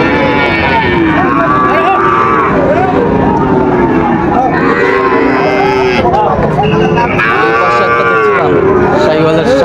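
Sahiwal breed bull calves at a busy cattle market low and moo repeatedly and loudly, up close, amid constant crowd chatter and some engine noise in the background.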